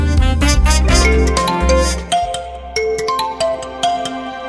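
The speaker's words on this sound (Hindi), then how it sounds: "अरे, तुम्हारे पति परमेश्वर का फोन है।" A loud electronic phone ringtone plays a bright, busy melodic pattern alone, with no talking over it.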